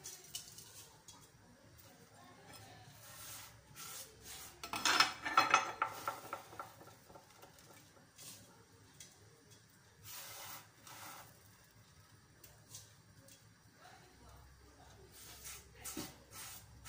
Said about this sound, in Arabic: غادي نحركها